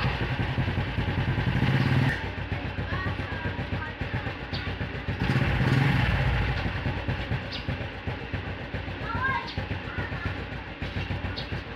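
A motorcycle engine runs steadily at moderate loudness during a performance test after an oil change with Silvestre oil, with a couple of brief surges in level and some rattling clatter mixed in.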